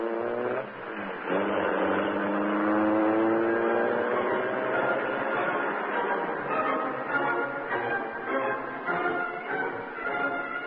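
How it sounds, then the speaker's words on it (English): A car engine roars loudly as the car speeds off, its pitch climbing through acceleration and then settling into a sustained rumble, with no voices over it. "The doors slammed, the motor roared."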